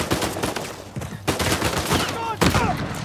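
Gunfire in the video game Uncharted 4 cracks out in rapid bursts separated by short pauses, loud and close.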